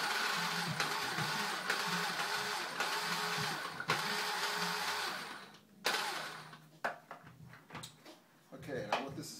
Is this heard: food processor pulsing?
yes